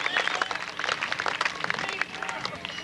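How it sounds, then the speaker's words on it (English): Rodeo crowd applauding a bareback rider at a 1997 Kansas rodeo, a broad wash of clapping and crowd noise that holds steady throughout, with an announcer's voice talking over it. "Give him a big round of applause."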